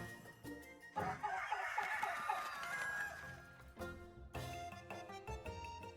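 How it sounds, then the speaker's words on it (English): Agitated hens in a video game cluck and squawk loudly in rapid overlapping bursts, with a rooster-like crow mixed in over busy game music. "Nothing quite like aggro chickens."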